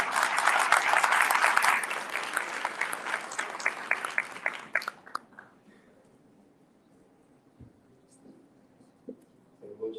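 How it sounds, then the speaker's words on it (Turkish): Dense, loud audience applause at the opening of the SASDER 10th National Congress in Turkey, sustained for several seconds with crisp individual claps before fading out into near silence with a few faint scattered sounds. "Alkışlar."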